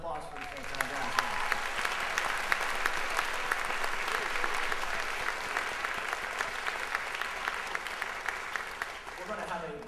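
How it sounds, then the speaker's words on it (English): School band festival audience applauding a school jazz band, a loud continuous wash of clapping with scattered sharp claps throughout, steady and sustained from start to finish. "How about one more big round of applause for the St. John Jazz?"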